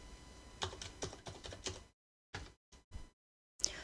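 Text being typed on a computer keyboard, a short close run of quiet key taps followed by a few separate keystrokes with gaps of silence between.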